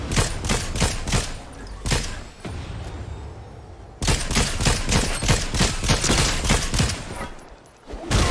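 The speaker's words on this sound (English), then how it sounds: "He was shooting at me for no reason." Rapid video-game gunfire from Fortnite crackles in dense bursts, loud and close, with a brief pause midway before another sustained volley.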